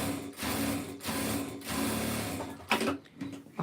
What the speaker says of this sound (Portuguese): vou rebater costura